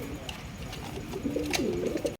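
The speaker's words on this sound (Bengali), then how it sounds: "এখানে রয়েছে একজোড়া আফসান গিজের রেসার কবুতর" A pair of racing pigeons on a farm coo softly and close, a low throaty rolling call rising near the end over faint background noise and a murmuring voice.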